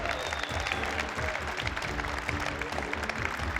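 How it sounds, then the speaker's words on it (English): A crowd at an auto tech national championship claps steadily for a finalist, a dense and continuous round of applause. "let's give a huge round of applause for River Dorn"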